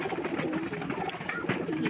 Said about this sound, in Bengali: তো তো কবুতরগুলো খাইতে থাক।